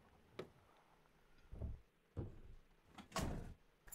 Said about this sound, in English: The guy getting back in the truck, slamming the door